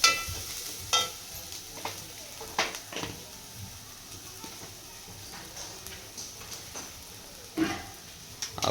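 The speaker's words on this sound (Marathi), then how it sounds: "पूर्ण ते परतून घेतोय आपण." An Agri masala paste of chili and turmeric powder sautés in a pan for a sea crab curry, giving a low steady sizzle broken by intermittent scrapes and taps of the spatula as someone talks.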